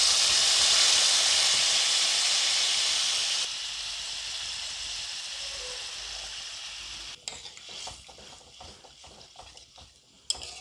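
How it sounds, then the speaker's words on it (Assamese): Water poured into a hot pan for Assamese fish curry with cabbage sets off a loud, broad sizzling hiss that slowly fades to a softer simmer, followed by a few scraping stirs and light clinks of a utensil against the pan. "এতিয়া মই দি দিম ইয়াত পানী"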